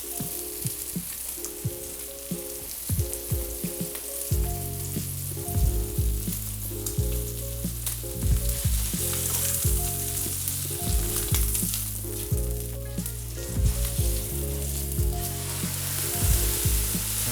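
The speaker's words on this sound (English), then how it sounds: "we're going to actually give it a good sear on both sides before we actually cut the steak up" Steak searing in a hot pan for a keto steak quesadilla, a continuous loud, crackling sizzle that runs beneath prominent background music, with no speech.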